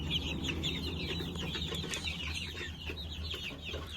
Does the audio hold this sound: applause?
no